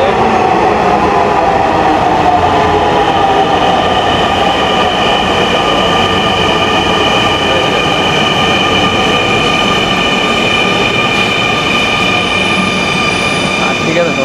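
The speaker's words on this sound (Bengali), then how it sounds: "রেলের আওয়াজটা দেখেন" A Dhaka Metro Rail train runs loud and close, its steady rolling roar overlaid with long, sustained metallic wheel squeals that bend and sweep throughout the clip.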